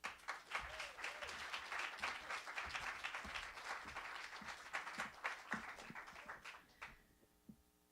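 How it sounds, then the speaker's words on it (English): A live storytelling-show audience gives a big round of applause to welcome a storyteller, the dense clapping sustained and fairly close before tapering off near the end. "Please give a big round of applause for Roxana Ortega."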